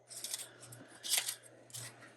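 Scissors fussy cutting around a book-page picture for envelope crafting, with three short bursts of crisp snipping and paper rustle, close and fairly quiet under a steady low hum.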